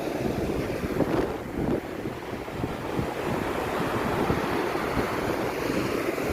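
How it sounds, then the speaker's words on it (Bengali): Swelling sea waves roll onto Chennai beach, the risen water reaching far up the shore, making a continuous broad surf wash with a steady wind rumble and no voices. "সমুদ্র ঢেউটা হ্যাঁ ডেফিনেটলি বেড়েছে, জল অনেকটাই বেড়েছে"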